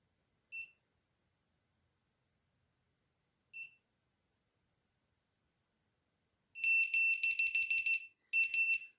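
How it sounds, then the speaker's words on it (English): Two isolated high-pitched beeps several seconds apart, then a rapid burst of loud piercing beeping in quick clusters from a VIFLY Beacon lost-drone buzzer on an Autel Evo drone. "beeper and the strobe will begin to go off after about 30 seconds"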